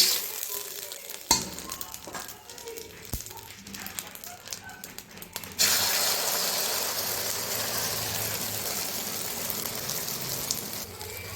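Beaten egg poured into hot oil in a wok for an omelette, a few sharp clatters first, then a sudden loud, steady sizzle that carries on with no talking.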